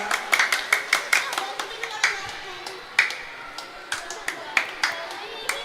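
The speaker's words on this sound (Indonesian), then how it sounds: "Tepuk tangan." A small group claps irregularly for several seconds, scattered hand claps at close range with voices faintly mixed in.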